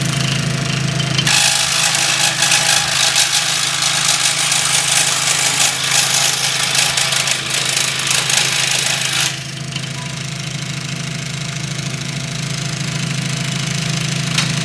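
A power tool cuts out individual parts for a 1:400 scale model of the S.S. Edmund Fitzgerald. A loud, buzzing cutting burst lasts about eight seconds over a constant motor drone, and the drone keeps running after the cut stops.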